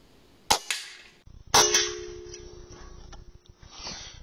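Guns are fired outdoors at night to empty a magazine during a night-vision scope test: two sharp, loud reports about a second apart, each ringing with a metallic clang that fades slowly.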